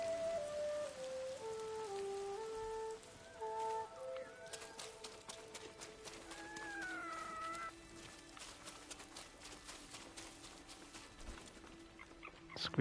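Steady patter of rain in the video game Ghost of Tsushima fills the background while bright melodic tones and chirps play over it, with no talking.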